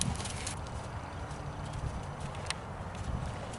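A horse being walked around slowly in an arena, its hooves clip-clopping in a steady rhythm close by over a dense background of ambient noise.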